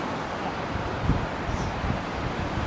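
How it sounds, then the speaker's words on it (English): Strong morning wind in Melbourne roars and buffets the microphone in a continuous, fairly loud rush, with no talking. "This is a very windy morning and let's see if it's noisy."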